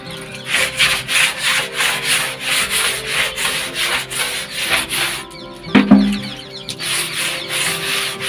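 A stiff brush scrubs the inside of a water tank cleaned with surf detergent and bleach, giving steady rhythmic rubbing strokes close by with a brief knock near the end.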